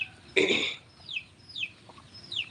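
A village hen gives one loud, close cluck followed by several softer, rising squawks and calls spaced across a quiet farmyard background.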